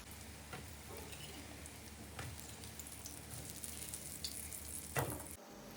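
Chebureki fry in hot oil, giving a steady, close crackling sizzle with scattered pops that holds throughout before a brief cut near the end.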